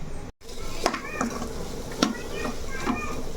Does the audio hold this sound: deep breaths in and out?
no